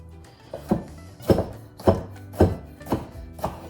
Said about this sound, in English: cut it into smaller pieces